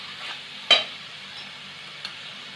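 Squid stuffing masala sizzling gently in a pan over medium-low gas, a quiet steady hiss with one sharp utensil clink and a faint tap, no talking.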